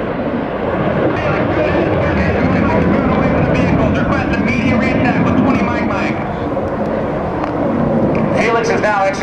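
Military jets fly low and pop up at the 2010 NAS Oceana airshow, a loud, steady roar of jet engines that fills the whole clip, with a rushing texture and a rising whine near the end.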